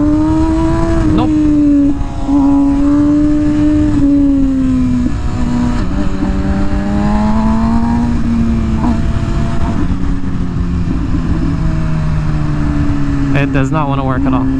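An MV Agusta motorcycle engine runs loud and close while riding, its pitch rising and falling through revs and gear changes, with a sharp burst near the end.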